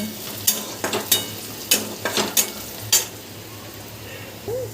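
Onion sautéing with cumin and turmeric in a pan for kurdai bhaji, with a soft background sizzle broken by several sharp, close spatula scrapes and clinks.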